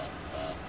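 Green ink sprays from a small nozzle in a soft, hissing burst near a desk, two faint puffs of airy spray close by with no talking.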